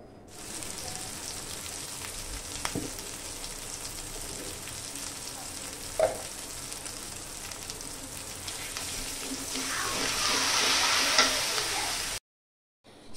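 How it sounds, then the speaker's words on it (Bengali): Browned onion with ginger paste, garlic paste, cumin paste, turmeric and chili powder fries in a kadai for a banana flower dish, a steady hissing sizzle with occasional stirring knocks that grows louder near the end, then stops abruptly. "কড়াইয়ে পেঁয়াজ লাল লাল হয়ে আসলে আদা বাটা, রসুন বাটা, জিরা বাটা, হলুদ ও মরিচের গুঁড়ো সব একসাথে দিয়ে ভালোভাবে কষিয়ে নিতে হবে।"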